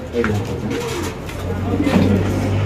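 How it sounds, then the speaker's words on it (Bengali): Several pigeons coo in low, rolling murmurs close by, with people talking at the same time, at a pigeon market. "আপনাদের কবুতরের ডাকগুলো আছে খুব অ্যাক্টিভ"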